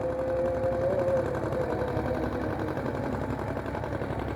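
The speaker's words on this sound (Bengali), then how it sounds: "এখন ট্রলারটা ঘুরাইতেছে যেন আমাদের জালের উপর দিয়ে না যায়" A trawler's engine chugs with a steady mechanical rhythm as the boat turns on a river during hilsa fishing, moderately loud and continuous with a faint whine over the top.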